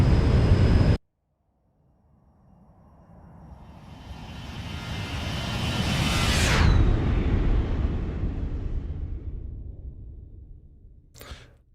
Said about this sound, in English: And let's get another flyby.